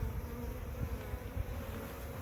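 Honey bees buzz continuously in a nuc box of brood frames, a dense low drone that is close and steady throughout with no talk.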